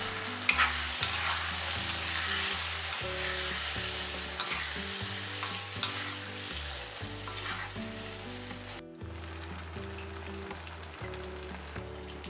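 Chopped potatoes frying in a pan with turmeric and red chili powder for aloo palak, a steady close sizzle under repeated scraping and stirring strokes, which cuts to a quieter hiss near the end.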